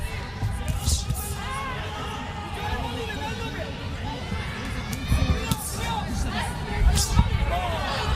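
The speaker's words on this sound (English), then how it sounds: "You can hear the screams when these exchanges start." A large boxing match crowd roars and shouts in surging bursts as exchanges start, with louder spikes of screaming amid a constant din of babble.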